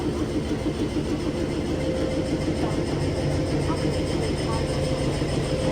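A Nilgiri Mountain Railway locomotive stands at a station, giving off a steady, loud, low mechanical rumble that runs unbroken throughout.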